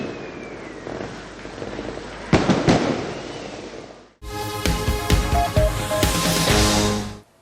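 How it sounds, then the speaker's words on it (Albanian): Fireworks close a public ceremony in Kosovo with sharp, loud bangs and crackling bursts, followed by a denser, sustained stretch of booming and crackle before a sudden stop. "E tërë ceremonia përfundoi me ndezjen e fishek zjarreve."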